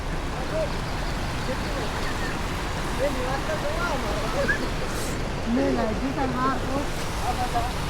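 Steady broadband rush of a river flowing near a village during heavy rain fills the whole stretch, with faint voices murmuring underneath.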